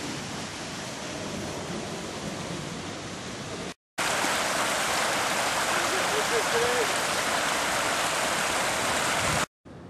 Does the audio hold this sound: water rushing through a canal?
yes